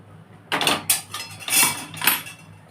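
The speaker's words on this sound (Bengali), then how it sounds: "একটু কড়াটা আমি ধুয়ে নিচ্ছি" A cooking wok (kadai) being washed with water: several clattering metallic scrapes and knocks in uneven bursts, close and moderately loud, with no voice over them.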